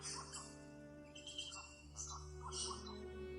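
A golden bowerbird calls in a rainforest with several short, faint chirps and whistles in irregular bursts over a low, steady ambient hum.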